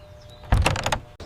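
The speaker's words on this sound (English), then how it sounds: "I unlock the door." A door being unlocked with a key: a brief burst of rattling metallic clicks, close and fairly loud, ending in a sharp clack.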